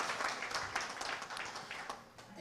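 Applause from the audience at a community convention, a soft, steady patter of many hands clapping at some distance, fairly faint and lasting a couple of seconds.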